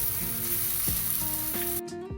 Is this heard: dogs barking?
no